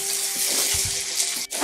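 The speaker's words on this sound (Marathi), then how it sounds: "कढईत तेल घालूया, मोहरी टाकूया थोडी" Mustard seeds sizzle and crackle in hot oil in a kadhai while a sandage vegetable dish is being cooked, giving a steady, close, bright hiss with small pops and no talking.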